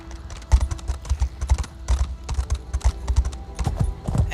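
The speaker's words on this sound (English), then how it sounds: "Let's ride the horse." A horse's hooves clip-clop steadily during a ride in The Elder Scrolls Online, a quick, even rhythm of close hoof falls against a faint game backdrop.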